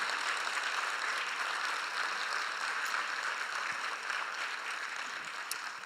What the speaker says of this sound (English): if we could give a group applause to our speakers for helping us clear misconceptions